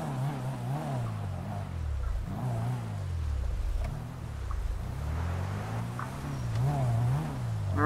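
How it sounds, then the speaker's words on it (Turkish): Car engine in a video game while the vehicle is being parked, a continuous rising and falling motor drone with repeated revs and slowdowns, steady and fairly close. "Şimdi arabayı şöyle park edeyim."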